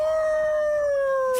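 A drawn-out, slightly falling howl from a character in the video game SUPERVIVE, loud and clear as a single sustained tonal cry that holds for over a second.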